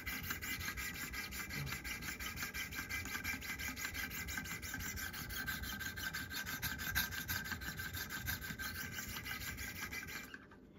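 A knife being sharpened, with steady rhythmic rasping strokes of the blade against an abrasive that repeat evenly for about ten seconds, close and alone before stopping abruptly.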